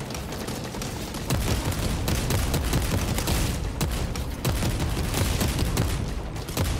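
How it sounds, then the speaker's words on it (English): Bolt rifle fire in Warhammer 40K: Space Marine II, loud, rapid bursts of heavy gunshots in a dense, continuous barrage with sharp cracks cutting through throughout. "the bolt rifle is so awesome"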